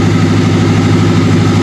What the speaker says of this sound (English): So one thing I do need to do is run the engine in and the camshafts to bed them in.